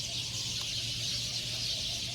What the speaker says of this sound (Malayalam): ഫുള്ള് കിളികളാണ് കേട്ടോ. നല്ല രസമുണ്ട് കിളി കേൾക്കുന്നുണ്ട്.